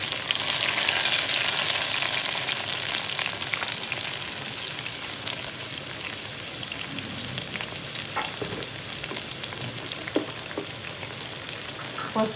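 Tomatoes fry steadily in a pan for a brinjal and tomato curry, giving a dense, close crackling sizzle that runs unbroken with a few sharper pops and stirring clicks, and no one speaking.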